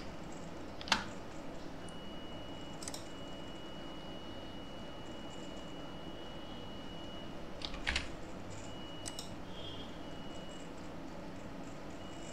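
Someone typing a short command on a computer keyboard in a quiet room under Linux, a few sparse, faint keystroke clicks spread over a low background hiss.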